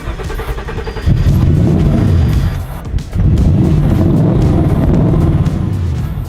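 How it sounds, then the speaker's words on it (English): A V8 engine in a Volkswagen Beetle with a fuel leak, running on starting fluid, roaring loud and close with a rough idle that surges into revs twice, dipping briefly in between. "It's only running on starting fluid."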